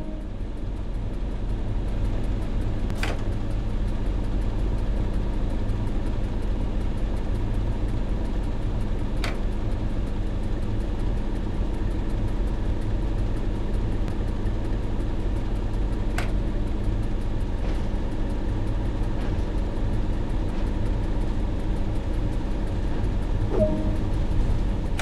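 A BR Class 31 diesel locomotive in Train Sim World 2 powers up with a steady, loud, droning engine rumble. A few sharp metallic clicks sound now and then over the drone.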